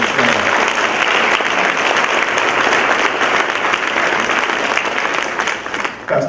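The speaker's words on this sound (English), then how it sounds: "Let's give Pastor Courtney Meadows another round of applause." Dense, loud audience applause at a Martin Luther King Jr. convocation, steady clapping that carries on evenly before thinning slightly at the end.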